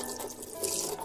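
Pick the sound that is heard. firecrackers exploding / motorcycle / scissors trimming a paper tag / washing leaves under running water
washing leaves under running water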